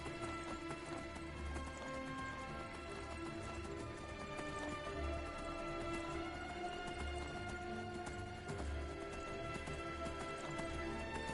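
Steady clip-clop of horse hooves at a running pace in Skyrim Special Edition, continuous throughout with a busy game-like backdrop of ambient sound.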